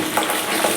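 Green chillies frying in hot oil for a pulihora tempering, a brief steady sizzle with soft stirring, close and alone.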